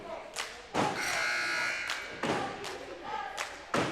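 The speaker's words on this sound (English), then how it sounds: "As there's the buzzer." Horn buzzer at a high school men's varsity basketball game, one sustained electronic blare of about a second amid loud thuds and gym noise from the court.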